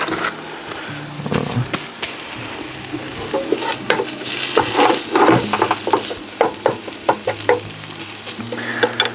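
Marinated pork spare ribs sizzle over a barbecue fire, a close, steady frying crackle broken by scraping and knocking as the meat is moved, with no talk.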